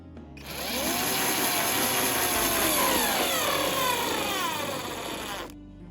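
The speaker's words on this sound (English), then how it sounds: "just drill it straight through the plastic into the hole you made in the wood" A power drill whirs steadily for about five seconds, rising slightly in pitch as the screw bites through plastic into wood, then stops.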